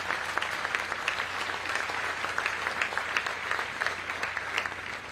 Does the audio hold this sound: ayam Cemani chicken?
no